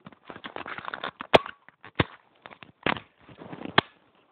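A DS4 carbine softgun fires several sharp snapping shots at irregular intervals, close by, mixed with clicks and handling noise from the gun.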